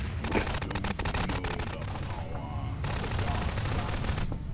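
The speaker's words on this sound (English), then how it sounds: "Someone's either spam shooting or shooting at someone" Bursts of gunfire in a Garry's Mod Prop Hunt game, with rapid repeated shots first and then a longer spray of fire, loud and close, over a noisy game background.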